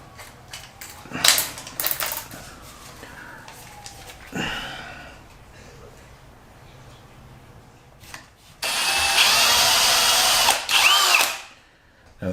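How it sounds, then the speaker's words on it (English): A power drill with a small bit bores into a raw hardwood window sill of an old house, with short bursts and a longer sustained whine near the end amid scraping and handling noises. "the part we're drilling into is hardwood sill"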